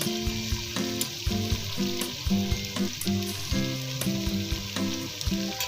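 Spices sizzle and fry steadily in a hot karahi, a dense continuous crackle with occasional louder spits and spoon scrapes, close and alone without voices.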